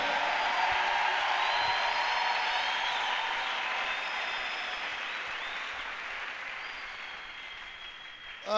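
A church congregation applauds and cheers during a French-language sermon, a steady, dense wash of clapping that holds loud through the stretch and fades slightly toward the end.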